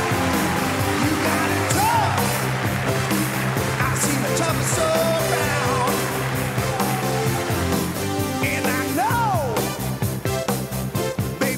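A debate-hall audience claps and cheers for Marlène Schiappa, a dense, steady wall of applause with whoops and shouts rising through it, sustained for several seconds.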